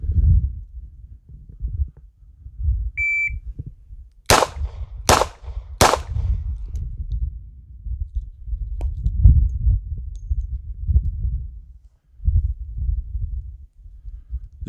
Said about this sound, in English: You guys watching me reload with a speed strip.